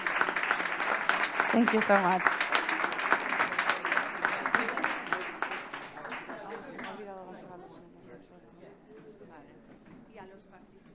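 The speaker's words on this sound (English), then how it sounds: "a big round of applause again for all the teams" An audience at a pediatric innovation day event gives the competing teams a big round of applause. The clapping is loud and dense at first, then thins and fades, and a speaker's voice comes in over it near the end.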